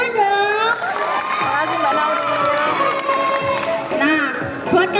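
A school audience applauding a student council candidate, with a dense crowd of claps, cheers and shouting voices.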